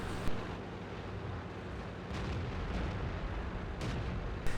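A 3 cm auto cannon on a VK 16.02 tank in World of Tanks, with distant rapid shots thumping over a low rumbling battlefield, with a couple of louder reports at the start and end.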